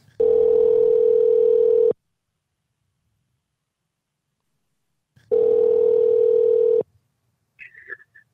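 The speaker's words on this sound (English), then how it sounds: "So let's call Charles and see what happens" Phone line tone while a call is being placed: two long, loud, steady electronic tones separated by several seconds of silence, followed by a brief faint sound at the end.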